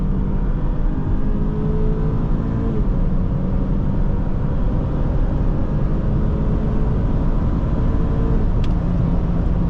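A 2023 BMW X3 30i xDrive accelerating hard from a standstill, a loud steady engine drone heard from inside the cabin, with rising engine tones and one brief shift change, no talking.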